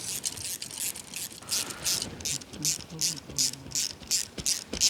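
Ratchet tightening 10mm nuts on a Honda Grom top end, rapid repeated clicking bursts in a steady back-and-forth rhythm, close and fairly clear, with a faint voice underneath.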